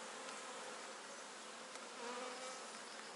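Honeybees in a hive compartment give off a steady, dense buzzing hum that stays fairly close and even throughout, with slight swells in intensity and no voices.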